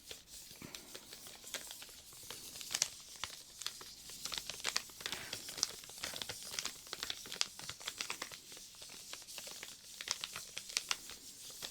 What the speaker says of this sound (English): this is more of a crinkle trigger